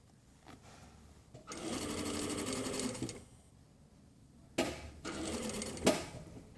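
A sewing machine stitches the under-collar of a jacket in two loud, steady bursts, each running a second or more, with quiet pauses between them and no talking.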